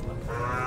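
A carabao water buffalo lows at the Dawis livestock stockyard, a single deep, loud, sustained moo that stands alone.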